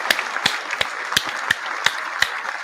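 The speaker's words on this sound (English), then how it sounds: "Let me give him a round of applause." A sparse, staged round of applause on a podcast: sharp, evenly spaced claps, about seven in under three seconds, with a steady hiss underneath and no talking.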